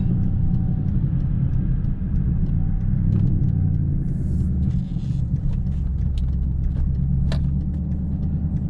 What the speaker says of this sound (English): My car's like, my wheel is wiggling all crazy.